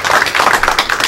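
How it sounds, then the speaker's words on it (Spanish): A short burst of dense audience applause at a ceremony honouring engineers who graduated from Peru's Universidad Nacional de Ingeniería 25 years earlier, steady and crowded throughout with no voices over it. "Un fuerte aplauso."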